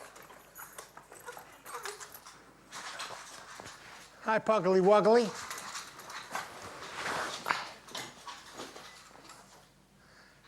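A pug whimpers and whines in a short high rising burst while scrabbling around on the floor, with footsteps and shuffling nearby; someone speaks to the dog over the sounds.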